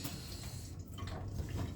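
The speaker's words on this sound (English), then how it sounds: "we're going to go ahead and get the garlic rinsed off and in the pot" Garlic being rinsed under a running kitchen tap, a steady hiss and splash of flowing water with no voices.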